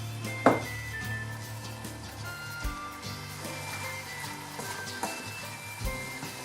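Tortilla soup base with seasoning mix fries in a pan, a faint continuous sizzle with a few sharp knocks and clatters of utensils against cookware, close and quiet, with no talk.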